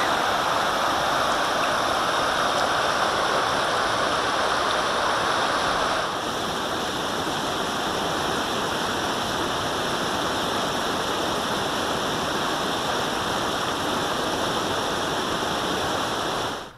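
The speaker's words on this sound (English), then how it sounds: "this is Frog Creek." Steady, full-bodied rush of Frog Creek in Yosemite flowing over rocks, continuous and close, with no voices.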